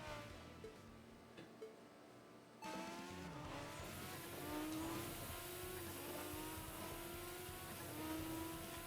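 Honda NSX engine racing in Tokyo Xtreme Racer, quiet at first, then a loud, sustained rev that climbs steadily in pitch through the gears and holds near and strong.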